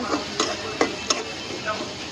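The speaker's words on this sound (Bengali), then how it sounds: "তেলটা গরম হয়ে গেছে পেস্ট দিয়ে দিলাম" Spice paste fries in hot oil in a pan, a soft sizzle under a few sharp clinks and scrapes of stirring, spaced roughly every third of a second.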